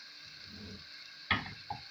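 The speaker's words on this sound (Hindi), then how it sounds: "इसको बस दो मिनट फ्राई करना है" Masala for aloo samosa filling fries in a pan with a soft, low sizzle, broken by a sharp metallic stir or spoon knock and a smaller clink near the end.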